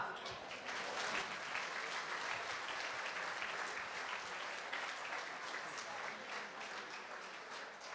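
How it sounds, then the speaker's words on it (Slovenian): Sustained audience applause at an outdoor NSi party festival and family day in Vitanje, a dense wash of clapping hands that stays loud and steady throughout. "si zaslužijo res velikega aplavza"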